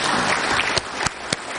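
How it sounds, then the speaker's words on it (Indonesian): Brief applause from attendees at a parliamentary commission hearing, a soft wash of clapping with a few sharper individual claps standing out near the end. "Tepuk tangan untuk kita semua."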